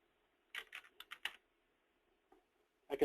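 A caller's name being typed on a mobile device, a quick burst of about six close, light key taps followed by a pause and a couple of further taps.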